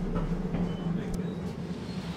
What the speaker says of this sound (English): A touristy tram ride completes the picture of an accessible downtown